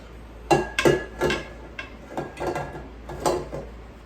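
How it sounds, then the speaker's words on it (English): A KitchenAid stand mixer working chocolate chip pecan cookie dough gives a series of loud, close thumps and clanks, roughly six bursts spread irregularly across the clip, with a steady motor hum underneath and no voices. "Now we are going to put this onto our KitchenAid mixer"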